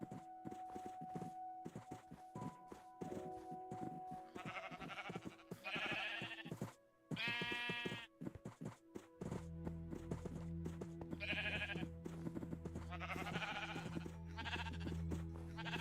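Minecraft sheep bleat several times in a farming game, short wavering calls rising over a steady backdrop of game music and clip-clop hoof sounds, with no talking.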